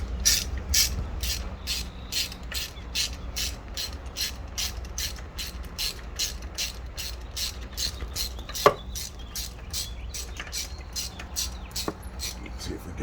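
A ratchet loosens a spark plug on a Dodge Durango HEMI engine with a long run of loud, evenly spaced clicks from close by, steady throughout, with one sharper knock midway.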